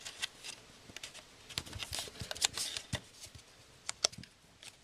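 Papercraft paper tabs being folded by hand, heard as faint, close crisp creases and light rustling in quick, irregular flicks with no voices.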